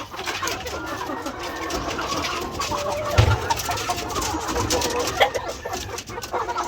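Chickens in a breeding pen cluck and murmur together in a steady, busy chorus, with occasional sharper clucks standing out against the low background.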